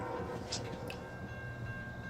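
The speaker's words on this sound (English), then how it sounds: "So as we have another train coming here" A train passes on the tracks below a camera mounted under a building eave, a low, distant steady rumble with a faint high whine and no talk.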